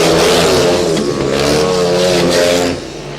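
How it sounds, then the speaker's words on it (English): Speedway motorcycles race around a track at Redcar on the last lap, a loud sustained engine roar with rising and falling pitch as bikes pass close, fading slightly at the end. "Matthew Weathers rides mid-track that time."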